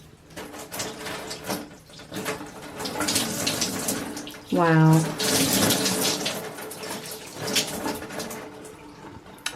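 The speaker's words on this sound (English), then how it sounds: "let's pour some water on it" Water poured from a container over a freshly cleaned shower surface, washing off a homemade dollar-store cleaner; a broad, loud splashing wash fills most of the clip, with a short exclamation from a person partway through.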